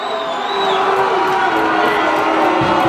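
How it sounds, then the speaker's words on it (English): A large high school hockey crowd at a playoff game roars loudly and continuously after a goal, the sustained, heavy noise of the spectators filling the arena. "And the booing."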